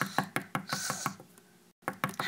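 Knocking on a door: a rapid run of firm raps, then a short pause and a few more knocks, heard fairly close with no talk over them.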